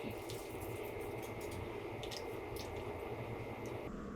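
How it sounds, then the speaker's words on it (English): Thick creamy ham and potato soup being stirred in a crockpot, giving a steady wet squishing and sloshing that runs continuously at close range without pause, with no talking over it. "So it's all getting stirred in."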